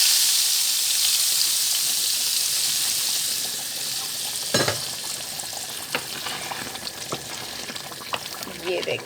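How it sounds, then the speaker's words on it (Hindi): A hot tempering of oil and spices (tadka) poured over chicken chickpea curry gives a steady, close sizzle and crackle, with a few sharper pops and stirring sounds partway through. "अब हम इनको लगाएंगे तड़का।"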